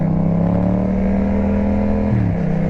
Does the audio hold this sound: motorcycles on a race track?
yes